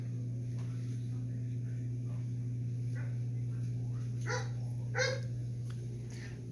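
A Rhodesian Ridgeback puppy in a crate gives a few soft yips and whimpers, the strongest near the end, over a constant low electrical hum.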